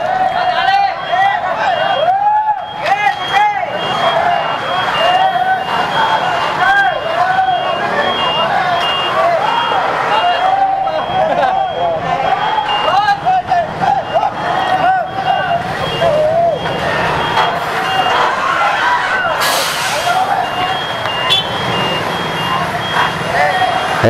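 A trailer truck blocking a road reverses and maneuvers with steady, repeating backup beeps over engine rumble and street noise.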